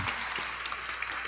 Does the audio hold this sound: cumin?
no